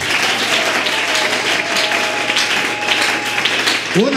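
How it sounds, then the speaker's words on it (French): A church congregation at a Sunday service breaks into loud, sustained applause, a dense continuous clapping that fills the room with a few voices mixed in. "Acclamons pour lui."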